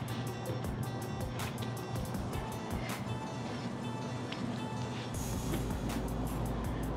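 Pressure-washer water spraying over a 2006 Mitsubishi Evo IX GSR during a car wash, a steady loud hiss throughout with a brief change in tone near the end, with no talk.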